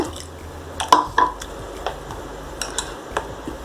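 A spoon clinks and taps against a bowl while wet gram flour batter is stirred with water, with soft squelching between the irregular strikes.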